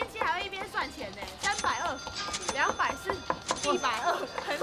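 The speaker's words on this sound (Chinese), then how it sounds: "干嘛要在那个碗里面切菜啊？" A knife chops vegetables in a bowl worn hollow from years of cutting, a rapid steady run of knocks continuing under overlapping chatter from several people.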